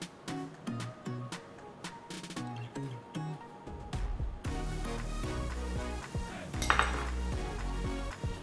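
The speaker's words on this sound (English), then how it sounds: "So I'll just spoon this over the salmon." A spoon scraping and clinking against a pan while sauce is spooned over grilled salmon, with repeated metallic taps and rattles and a denser clatter of cookware in the second half.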